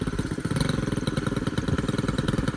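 A Stihl FS91R string trimmer engine runs close by at a rough, uneven idle, bogging slightly with a rapid clattering pulse that stays loud and steady throughout, with no talking.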